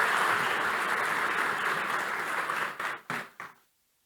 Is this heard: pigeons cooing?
no